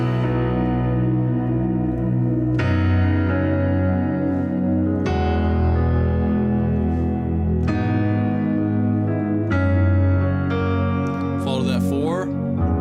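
A keyboard plays the outro of God I Look to You in B, slow sustained chords changing every few seconds with a warm, reverberant tone, ending on a bright ringing flourish.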